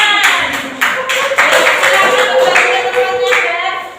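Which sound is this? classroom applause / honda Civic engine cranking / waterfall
classroom applause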